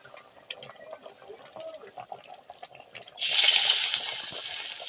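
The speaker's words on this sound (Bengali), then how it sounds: "তেলটা আমার এদিকে গরম হয়ে গেছে আমি এবার পরপর করে বড়াগুলো ভেজে নেবো" Flower fritters dropped into hot oil burst into a loud, bright sizzle partway through, after a quieter stretch of light kitchen noise and faint crackling.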